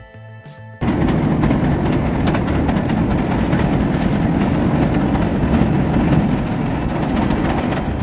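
Riding a train over the Bhairab bridge in Bangladesh: after a brief quieter start, a loud, steady rolling rumble of wheels and carriages fills the rest, close and unbroken.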